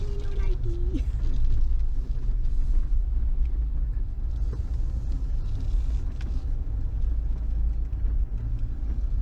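A Jeep rolls slowly out of a cramped parking garage, its engine giving a steady low rumble that fills the enclosed space throughout.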